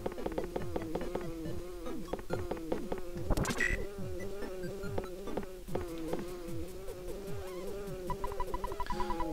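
An insect buzzing steadily in the video game EarthBound, a persistent hum under looping melodic tones, with a short louder burst early on and faint clicks near the end.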